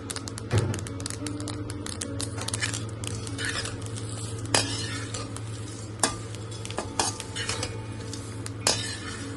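Dry red chillies and peanuts roasting in a pan, stirred with a spatula: a steady low sizzle runs throughout, broken by scattered sharp scrapes and clicks of the utensil against the metal, close and fairly quiet.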